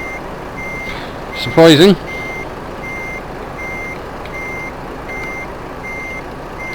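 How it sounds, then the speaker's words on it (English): Truck reversing alarm in Euro Truck Simulator 2, a steady run of evenly spaced high electronic beeps repeating throughout, with a short burst of a voice near the start. "God, that beeping's annoying"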